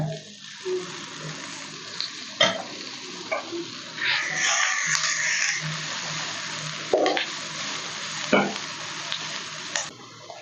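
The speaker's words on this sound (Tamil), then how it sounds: "தக்காளி வதங்கின உடனே முருங்கைக்கீரை எடுத்து வச்சுருக்கோம் அலசி முருங்கைக்கீரையை சேர்த்துக்கோங்க" Drumstick leaves are stirred into sautéed tomato in a pan. A soft sizzle runs throughout, broken by scattered clinks and scrapes of a spoon against the pan, all fairly quiet and close.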